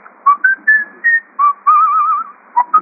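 A whistled Argentine radio jingle: a short, bright melody of quick rising notes and one longer wavering tone, whistled alone and close with no talk.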